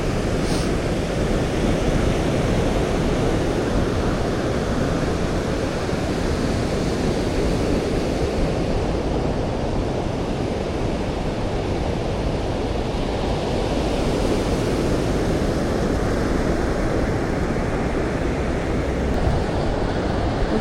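Continuous roar of sea surf washing onto an eroded beach in Vietnam, steady and fairly loud throughout with a broad wash of breaking waves, no voices.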